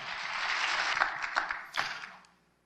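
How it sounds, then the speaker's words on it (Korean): A church congregation breaks into applause during a sermon, a broad wash of clapping that swells briefly with a few sharper claps and then fades away to quiet. "박수 한번 합시다"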